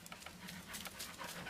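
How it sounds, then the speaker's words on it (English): A dog pants quickly and rhythmically nearby outdoors, a steady run of soft breathy huffs at an even pace, fairly quiet and with no talking. "Here comes my dog."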